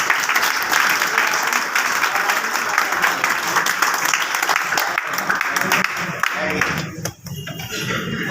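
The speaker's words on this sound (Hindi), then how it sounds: "हम चाहते हैं कि इनका जोरदार तालियों से स्वागत होना चाहिए।" Audience applause at a training event, loud sustained clapping from a large crowd, with faint voices mixed in, fading near the end.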